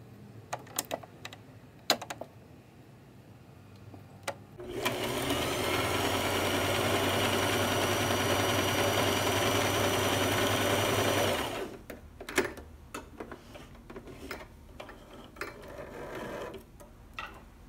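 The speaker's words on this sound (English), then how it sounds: "So I'm gonna start with just my average size straight stitch." A sewing machine runs a straight stitch on knit fabric steadily for about seven seconds, a loud continuous whirring stitch, framed by scattered clicks and handling noises before and after.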